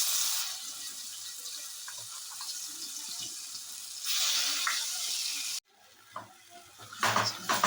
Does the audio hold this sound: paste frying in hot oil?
yes